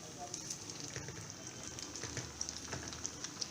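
Dahi kebabs fry in hot oil with a soft, steady sizzle and scattered crackling pops, fairly quiet and close.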